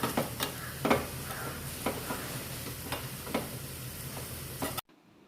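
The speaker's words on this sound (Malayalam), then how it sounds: "കറിവേപ്പിലയും ചുവന്നുള്ളിയും നന്നായിട്ട് മൂത്ത് വന്നതിന് ശേഷം നമുക്കിത് സാമ്പാറിലേക്ക് ഒഴിച്ചു കൊടുക്കാം" Shallots and curry leaves crackling in hot oil for a Kerala-style sambar tempering, a dense continuous sizzle with periodic stirring scrapes, close and steady until it cuts off abruptly near the end.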